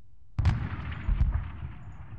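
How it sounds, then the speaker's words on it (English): Artillery bombardment in the wargame Sealion '40: a heavy blast opens the clip, a second thud follows about a second later, and a rumbling, crackling tail fades out afterward, with no talking. "that is a very, very impressive bombardment"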